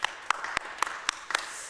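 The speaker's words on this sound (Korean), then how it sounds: "우리 하나님께 영광의 박수 올려드립시다." A church congregation at a Sunday service claps to give glory to God, sparse individual sharp claps spaced irregularly against a quiet room, fairly soft and scattered rather than a full ovation.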